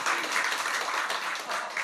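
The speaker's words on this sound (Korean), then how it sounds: "나 지금 격려 박수 하겠습니다." A church congregation gives a burst of encouraging applause during a Sunday worship service, a dense, even roar of many hands clapping throughout the short stretch.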